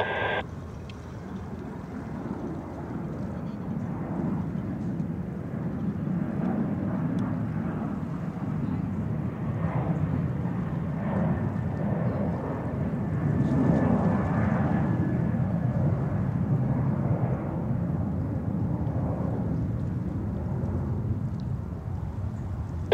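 Airplane approaching to land on runway 29, a steady droning engine rumble with wind noise that holds throughout, fairly loud and continuous.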